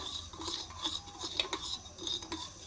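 A spoon stirring two teaspoons of sugar into half a cup of warm milk, giving soft, repeated clinks against the cup in an uneven rhythm, close and quiet.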